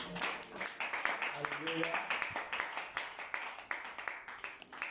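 A church congregation claps and cheers during a service, with dense rapid applause mixed with voices calling out.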